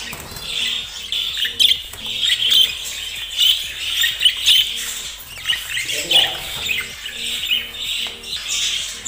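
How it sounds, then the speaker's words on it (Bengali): Caged finches and budgies, finch chicks among them, squawk and chirp busily in overlapping bursts, close and fairly loud and without a pause across the whole stretch. "কিছু এর মধ্যে আছে ফিঞ্চ পাখির বাচ্চা"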